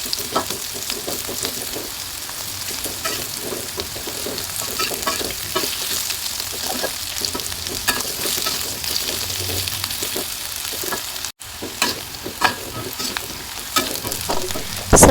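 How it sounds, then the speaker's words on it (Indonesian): Tempeh frying in hot oil makes a dense, loud, continuous crackling sizzle that stays even throughout, close up, with no one talking. "Masukkan semua tempe dan goreng sampai matang dan berubah warna menjadi kuning kecoklatan."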